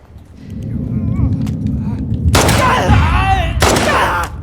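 Gunshots ring out in The Last of Us Part 2, two loud sharp cracks with reverberant tails over a low ambient rumble, after quieter rustling movement and a voice.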